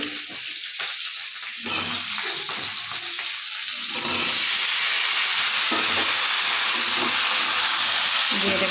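Vegetables dropped into a hot pan with oil and green chillies set off a close, loud sizzle that swells halfway through and then holds steady, with stirring scrapes beneath.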